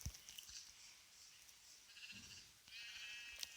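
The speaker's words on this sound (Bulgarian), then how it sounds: "Аре, ки отиде тази овца." Sheep bleat faintly in a video game, with a couple of soft, brief cries over quiet background game sounds.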